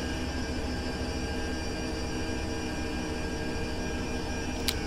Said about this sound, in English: engine 2 is now spooling down